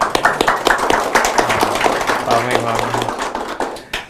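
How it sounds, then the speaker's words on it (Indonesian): Studio audience on a television forum show clapping in brief irregular bursts, close and fairly loud, mixed with people talking. "Mungkin yang di studio boleh tepuk tangannya dong."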